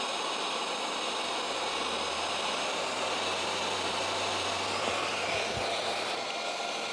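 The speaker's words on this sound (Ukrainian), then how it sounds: "вентилятор запустився. До речі, видно, що зараз оберти стали більші." An inverter's cooling fan on a Datouboss 2300W/24V unit runs with a loud, steady broadband whoosh and a low hum, its speed shifting slightly up and down throughout.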